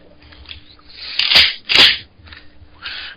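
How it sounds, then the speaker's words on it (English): Two quick, loud mechanical clacks, back and forth, as a Mossberg 500 pump-action shotgun is racked close by, over faint room noise. "That is the sound of me racking a shotgun."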